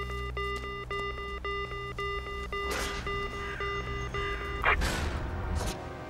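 A telephone rings in repeated electronic trills, then breaks off as the handset is picked up with a clatter.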